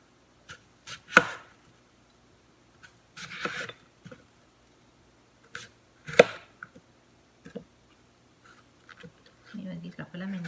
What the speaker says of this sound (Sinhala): පොතු ඇරපු ඇපල් මේ විදිහට කෑලි කපනවා.